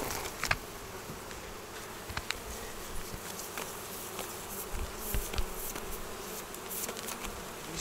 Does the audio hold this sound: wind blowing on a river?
no